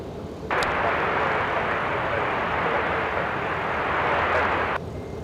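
Southwest Airlines jet at Los Angeles International Airport, a broad roaring engine rush that starts abruptly, holds steady and loud for about four seconds, then cuts off, with no talk.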